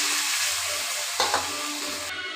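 Potatoes cooking in a pan for a Bengali fish jhol after water goes in, a continuous close hiss of simmering with a brief clatter of stirring partway through, no talking.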